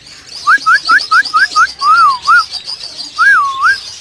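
Lovebirds and budgies in a breeding shed give clear, close whistled chirps, first a quick rhythmic series of rising notes, then longer swooping calls, with faint chatter of other birds behind.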